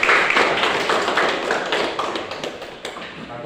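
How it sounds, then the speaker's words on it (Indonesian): Classroom students applauding together after a group presentation in a religious studies lesson, a dense, steady patter of many hands clapping at close range with no voices over it. "Ya, bagus, tepuk tangan."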